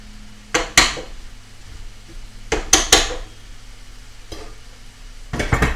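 Raw shrimp being stirred in a pan with other frittata ingredients: a few sharp clinks and scrapes of a utensil against the pan in short clusters, over a faint steady sizzle, with no talking.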